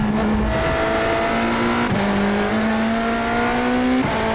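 A BMW M Hybrid V8 LMdH prototype race car in the iRacing sim roars loudly and steadily, its engine note climbing through the revs with short dips at each quick upshift.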